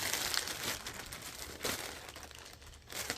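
Plastic bags crinkle and rustle in a few short bursts while day-pack gear is sorted, close to the mic with steady soft noise between the crackles.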